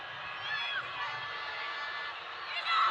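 Spectators at a Nepal vs Myanmar women's international football championship match raise a steady roar of cheering and shouting, with a rise in volume near the end.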